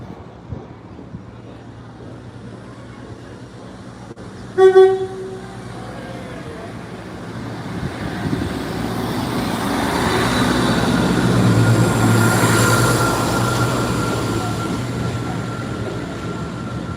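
A Class 172 diesel multiple unit passes through Lincoln, its engine and wheel rumble swelling to a broad roar midway and then easing, with a brief sharp tone near the start.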